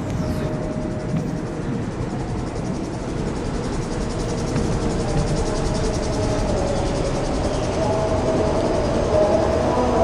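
A commuter train runs along Line D from São Caetano do Sul to Brás in the OpenBVE train simulator, Supervia Series 900, giving a steady loud rumble of wheels and motors with a faint whine, continuous throughout.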